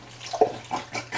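Liquid from jars of red peppers poured into a pan, a few short close splashes and trickles coming in uneven bursts.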